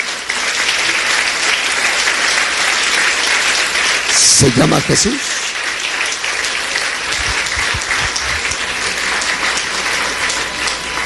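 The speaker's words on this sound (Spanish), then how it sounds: "Le podemos dar un aplauso al Señor." A church congregation applauds steadily and loudly throughout, while a voice speaks briefly over the clapping partway through.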